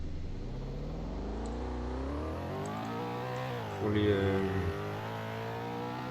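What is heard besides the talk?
motorcycle engine revving in a GTA roleplay video game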